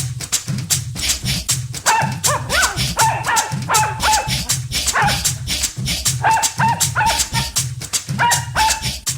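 Cartoon dog barking and yipping repeatedly in an animated Telugu kids' series, loud and close, mixed with excited voices and a scuffle between characters.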